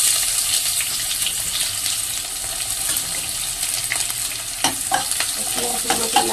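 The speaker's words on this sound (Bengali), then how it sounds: "পেঁয়াজগুলোকে লাল লাল করে একটু ভেজে নেব।" Onions frying in oil in a wok, a continuous sizzling hiss under steady stirring, with a few sharper scraping clacks of the utensil near the end.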